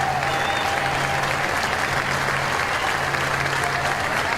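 LSU Tigers fans at a college baseball game clap and cheer steadily in a tie game, a dense wash of applause and crowd noise holding at one level throughout.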